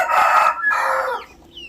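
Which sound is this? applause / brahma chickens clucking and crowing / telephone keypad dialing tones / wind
brahma chickens clucking and crowing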